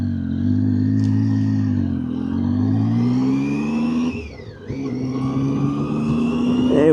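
A brand new van's engine revs steadily with a rising and falling drone, dips briefly during a gear change, then picks up and climbs again.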